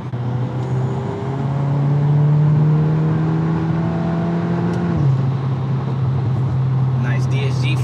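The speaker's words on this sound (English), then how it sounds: "Nice DSG farts." A VW MK8 Golf R with a DSG gearbox and custom open air intake accelerates hard, its engine drone climbing steadily before a sudden drop at a gearshift with a brief exhaust pop, heard from inside the car.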